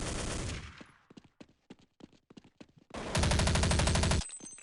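Automatic gunfire in the 2000 game Counter-Strike 1.0: a loud sustained burst, then a run of scattered single shots, then another dense, loud burst that cuts off abruptly.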